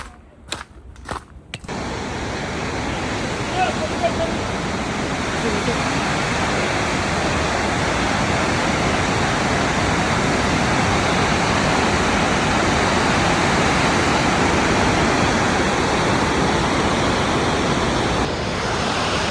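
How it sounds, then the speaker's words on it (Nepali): Marokopa Falls in New Zealand roaring as a loud, steady broadband rush of falling water, close and continuous after a few brief knocks at the start. "अब एकैचोटि तल झरनामा गएर भेट्नुपर्छ हामी"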